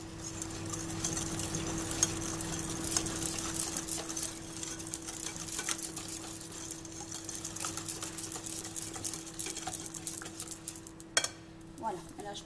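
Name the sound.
stirring cake batter in a bowl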